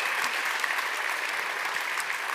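A conference audience at the Neos Conference 2022 main stage bursts into dense, sustained applause and cheering, steady and loud from start to finish with no talk.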